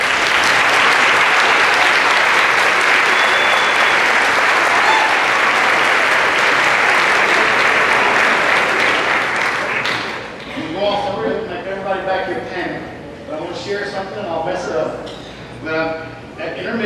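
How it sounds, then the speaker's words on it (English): A standing ovation for dairy families at a dairy festival pageant, loud sustained crowd clapping for about ten seconds, then thinning out into scattered claps as a voice starts speaking. "please stand for the show of appreciation with a round of applause"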